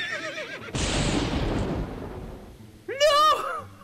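A horse neighs and whinnies near the end of a stormy night ride in a video game, a sharp rising-and-falling call following a long burst of heavy rumbling noise like thunder or rain.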